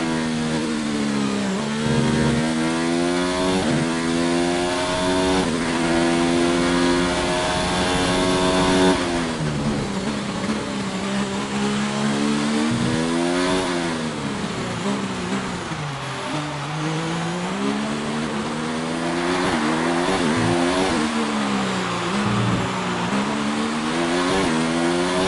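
A Ferrari Formula 1 car engine in the racing video game F1 2019 screams continuously at high revs, pitch climbing and dropping through repeated gear shifts, loud and unbroken for the whole stretch.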